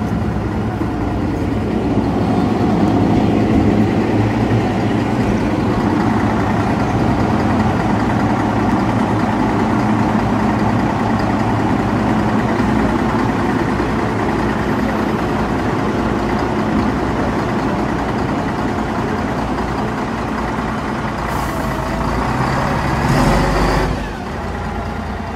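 A MAN NG312 bus idles at a busy stop in central Ljubljana, its heavy diesel engine rumbling steadily and loudly for a long stretch, with a brief clatter near the end as the idle drops.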